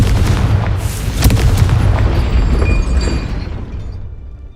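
A Confringo spell explosion in the video game Hogwarts Legacy booms loud and close, one deep blast that rumbles and slowly fades over several seconds.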